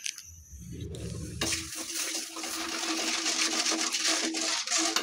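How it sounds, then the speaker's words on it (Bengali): Sugar with a little water and garam masala is stirred in a wok to melt it for a sweet-spicy hog plum pickle. A low rumble gives way to a continuous bubbling, scraping hiss close by, with no voices. "চিনিটাকে নেড়েচেড়ে একটু গলিয়ে নিব"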